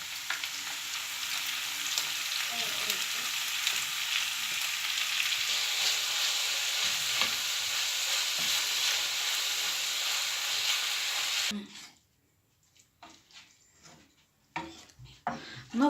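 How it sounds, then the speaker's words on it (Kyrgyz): Minced meat and onion fry in a pan with a loud, even sizzle and occasional stirring for most of the stretch, then the noise cuts off and only sparse faint knocks and clicks remain. "пиязды кошуп кууруп беребиз."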